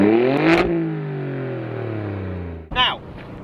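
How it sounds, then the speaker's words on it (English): An Alfa Romeo Stelvio Q in race mode revs up sharply, then its exhaust note falls away in a long descending drone before a second quick blip and burble, loud and close with no voices. "you have to put it in race mode for it actually to burble at all"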